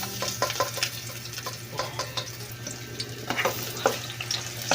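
Garlic and onion sauté in a little oil, with a continuous frying hiss under frequent light clinks and scrapes of a utensil stirring in the pan.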